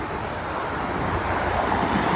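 Motorcycles on a steep uphill zigzag stretch of Governor's Drive in Carmona, heard as a steady, fairly distant engine and road drone with wind, no talk.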